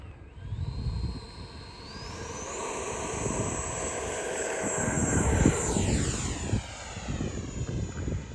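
FMS 70mm Viper RC jet with afterburner and full flaps flies past, a loud steady turbine-like whine with rising and falling pitch as it passes, over outdoor wind rumble.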